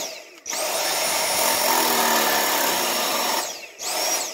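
A Ryobi cordless vacuum with its beater brush runs loud and close, a steady whirring roar with a high whine that starts abruptly, holds for about three seconds, then cuts off and briefly restarts.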